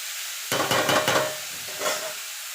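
Vegetables for a Bengali vegetable chop stirred in a frying pan, a burst of close spatula scrapes against the pan over frying sizzle, then a second shorter round of stirring after a quieter stretch.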